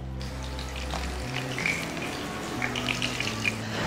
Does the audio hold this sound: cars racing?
no